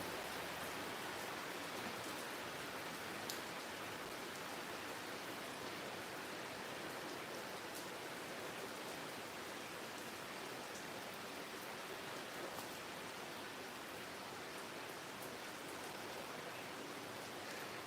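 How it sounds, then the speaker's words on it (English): Steady rain falls continuously, a soft even hiss with scattered drips, faint and unbroken, with no voices. "sit back and listen to the rain"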